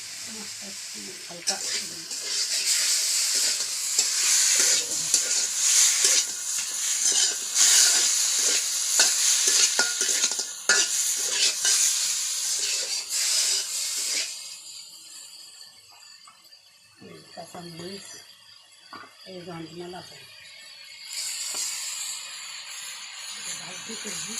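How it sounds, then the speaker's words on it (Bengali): Fish and rice are stirred in a frying pan, with a loud, continuous sizzle and repeated scraping strokes at first, then quieter frying while a person talks over it. "জ্বালা চাল মাছের সাথে দিয়ে দিল আমি একটু নাড়াচাড়া দিব"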